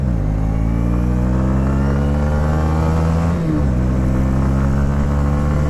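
A 2018 Honda CB125R motorcycle cruising on the highway gives a loud, steady engine drone heard from on board, with a brief dip in pitch partway through before it settles back to a constant hum.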